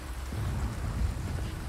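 Steady rain falling outside in the Resident Evil 4 Remake village, a dense, continuous low rumbling wash with no voices, constant in level throughout.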